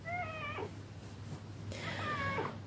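Two clear cat meows, one near the start and another after a pause, heard fairly close over a steady low hum in an indoor setting.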